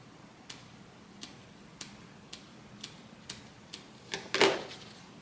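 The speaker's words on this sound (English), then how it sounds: "And put little snips in my zipper." Scissors snip into a zipper on a sewing project in a series of small, crisp, evenly spaced clicks, ending in a louder, fuller cut.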